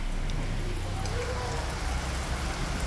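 Heavy rain pours steadily during a cyclone alert in Tampico, Mexico, a dense continuous hiss with no break and no talking.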